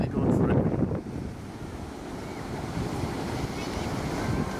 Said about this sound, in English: Surf's really kicked up, so I won't be going out in the wetsuit.